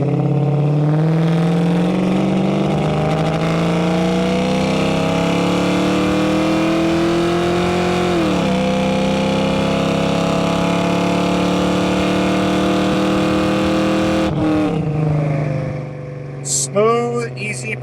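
A restored 1965 Ford Mustang with a 302 V8 and World Products headers accelerates hard through the gears, its loud, close exhaust rising in pitch, dropping briefly at shifts, then easing off at the end.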